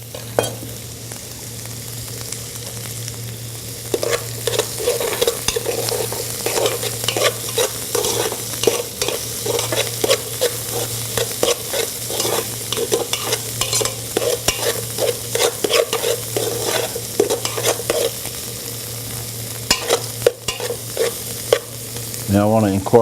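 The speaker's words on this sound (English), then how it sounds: "That little bit of sizzle there." Rough-cut vegetables for a chowder sizzling steadily in a hot pan while being stirred, with repeated scraping and clacking strokes over a continuous frying hiss, close and fairly loud.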